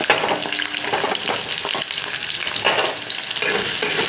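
Chopped onions sizzle steadily in hot oil with a little sugar in a home kitchen pan, a continuous close frying hiss broken by a few stirring scrapes and bursts of crackle, with no talking.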